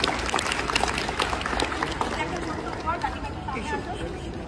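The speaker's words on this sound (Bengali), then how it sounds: "জোরে হাততালি হবে সবাই" An audience claps at an award ceremony, with dense crowd applause mixed with chatter and nearby voices, the clapping fading as talk continues.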